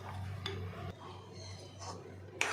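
A metal kadai set down on a gas stove in a home kitchen while preparing aam panna, giving a few light clanks and clinks at moderate distance over a low steady hum, fairly faint.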